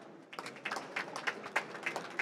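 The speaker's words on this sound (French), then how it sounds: "Vous pouvez déjà applaudir, en tout cas, nos speakers qui sont là" An audience at an industry event in Auvergne-Rhône-Alpes claps for the speakers on stage: a short, quiet spatter of scattered hand claps that begins after a brief silence.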